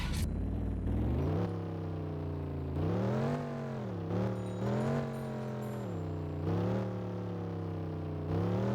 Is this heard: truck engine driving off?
yes